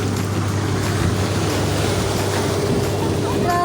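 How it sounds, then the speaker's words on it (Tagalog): A steady, loud rushing roar of strong sea waves slapping around a boat while island hopping off Boracay, with engine rumble blended underneath throughout. "Grabe, lakas ng alon."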